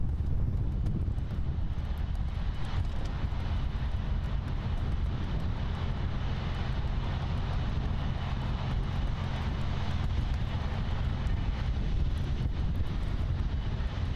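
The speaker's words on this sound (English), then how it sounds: "After that American 737-8 MAX arrives" An American Airlines Boeing 737-8 MAX jet arrives at Miami International Airport, its steady engine roar filling the air continuously without speech.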